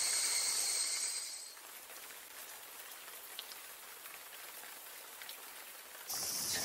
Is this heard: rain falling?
yes